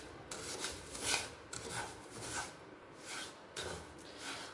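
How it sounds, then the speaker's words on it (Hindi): Semolina and sugar for chocolate halwa roasted in a pan, a spoon scraping and stirring in steady rhythmic strokes, close but soft. "शक्कर डालने के बाद इसे हम 2 से 3 मिनट और अच्छे तरीके से भून लेंगे।"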